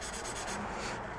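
An engine valve is lapped into its seat with gritty grinding compound, giving a steady close scraping rub with a slightly coarser rasp in the first half, and no talking.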